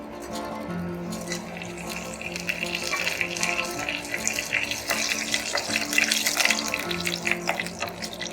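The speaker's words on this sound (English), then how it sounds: "I've got oil heating up in a deep pan, and once it's nice and hot, let's add in the spices." Spices sizzling in hot oil in a deep pan, a soft crackling fry that builds in intensity over several seconds, fairly faint and close with no talk.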